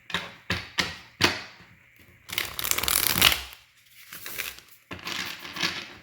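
Tarot cards being shuffled by hand: a few sharp riffling snaps at first, then a longer dense flutter of cards, a pause, and another burst of shuffling, close and clear with no talking.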